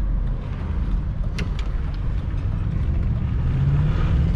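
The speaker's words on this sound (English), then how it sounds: "Second gear, full throttle, it returned me to first. Hit the rev limiter." A remapped 309 hp BMW X5 4.4i E53 V8 runs at full throttle on a curvy rally road, a loud, continuous engine roar mixed with wind buffeting that holds near a ceiling, as if bouncing off the rev limiter.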